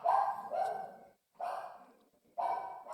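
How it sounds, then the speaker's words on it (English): A dog barks three times in loud, separate bursts spaced about a second apart, close by with short silences between. "she's been barking lately"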